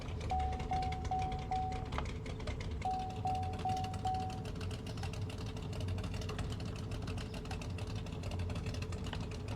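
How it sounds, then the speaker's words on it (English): A car's low-fuel warning beeps inside a ute, two short bursts of repeated thin tones over a continuous idling engine hum, fairly faint. "the beeping noise, that's the fuel"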